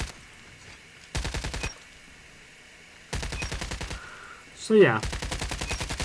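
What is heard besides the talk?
LMG machine gun fire in COD Mobile video game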